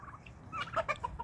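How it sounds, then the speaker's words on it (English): Domestic turkeys on a small bird farm kept alongside guinea fowl give a run of quick, close, warbling gobble-like calls, starting faintly and swelling into several rapid bursts over quiet outdoor background. "The turkeys are, that one's Tom, that one's Jerry, with a G, not a J"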